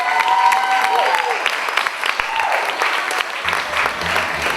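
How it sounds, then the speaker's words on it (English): A dance-hall audience at a Lindy Hop swing event gives the DJ a loud, sustained round of applause, with scattered cheers and a voice briefly audible over the clapping near the start. "how about a round of applause for your DJ tonight"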